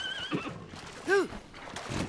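A horse in the video game Zelda: Tears of the Kingdom gives one short, close whinny with a wavering pitch, with a few soft hoof clops and game sounds around it.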